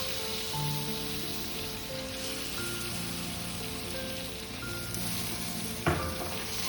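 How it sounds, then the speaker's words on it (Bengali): Salted chicken pieces fry in hot oil with a loud, continuous crackling sizzle. Near the end comes one sharp clank of a utensil against the pan. It is close and has no speech over it. "এবার এই চিকেনগুলো এই তেলের মধ্যে ছেড়ে দিচ্ছি।"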